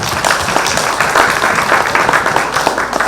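A church congregation at a youth conference claps together in praise, a thick, continuous burst of many hands close by, loud and even for a few seconds.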